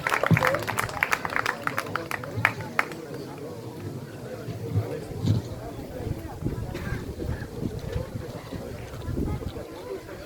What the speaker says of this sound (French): Vous pouvez l'applaudir très fort s'il vous plaît.